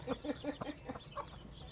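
Free-range village hens and a rooster cluck in quick, repeated bursts close by, a lively farmyard chatter with no talk over it.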